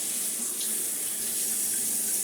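A tap runs steadily into a sink as someone rinses their face, a constant close hiss of flowing water with no pauses.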